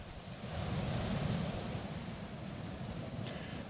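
Low, steady rush of surf with a soft wash of noise at dusk on the west coast of Réunion, rising slightly then holding constant; no voices.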